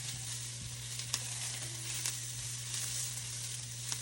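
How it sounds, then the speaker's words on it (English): Onions, garlic, ginger and butternut squash sauté in a pan with a soft, even sizzle throughout, a few faint clicks of stirring, and a low steady hum beneath, quiet and close, with no speech. "So we're gonna go ahead and add our garlic, our butternut squash, and our ginger"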